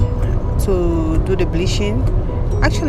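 Road noise from a moving vehicle, a steady low rumble and engine drone throughout, with someone talking over it.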